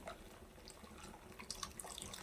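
Water runs and trickles quietly as it is drained off, a steady low splashing with a few faint drips, no voices.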